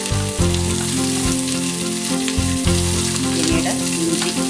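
Shallots fry in coconut oil for Kerala beef ularthiyathu, producing a loud, continuous close sizzle with light stirring.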